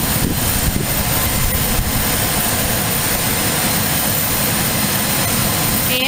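A small aircraft comes in to land at Aurora Municipal Airport, its engine a steady, loud drone with a deep low rumble that holds throughout, close by and with no voices.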